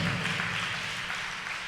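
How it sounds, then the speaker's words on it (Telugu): A church congregation claps loudly during a Christian sermon, a dense, steady wash of applause that holds evenly from start to finish with no voices over it. "కొట్టు చప్పట్లు గట్టిగా కొట్టు."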